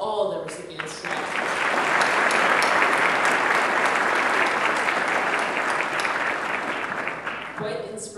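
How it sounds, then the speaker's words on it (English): Sustained audience applause at an award ceremony for the evening's recipients, a dense, loud wash of clapping that swells in, holds steady for several seconds, then tapers at the end, with a voice faintly audible near the close. "And how about one more round of applause for all the recipients tonight?"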